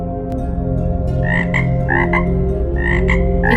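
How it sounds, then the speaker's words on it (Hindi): Frogs croak repeatedly by a pond, with loud rhythmic calls in short bursts over a steady droning chorus, close and continuous with no talking. "इतने में मेंढक वहां आता है"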